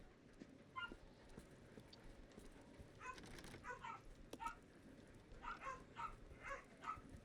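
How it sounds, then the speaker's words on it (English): Dogs yapping and whimpering off in the distance inside the survival-horror game Resident Evil Zero, short clusters of yips around the one-second mark and again from three to seven seconds over a low ambient rumble. "You might hear some dogs yapping, they're just out there having the time of their little dog lives"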